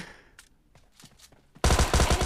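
Gunfire in PUBG Mobile Lite: a few faint, scattered shots at first, then a sudden loud burst of rapid automatic fire that hammers on to the end.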